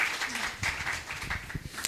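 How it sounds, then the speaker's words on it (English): An audience at a sustainability accelerator program event claps in a short burst of steady applause, with a voice speaking over it. "I think it deserves a round of applause."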